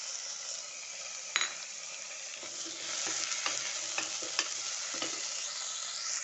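Chopped tomatoes fry with garlic for a bottle gourd curry in a steady close sizzle. A spoon stirs the pan with a few light metallic taps, and nobody speaks.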